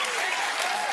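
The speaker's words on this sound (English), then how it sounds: "Relish in that applause." A brief, dense burst of audience clapping, steady and loud, filling the whole moment without any break.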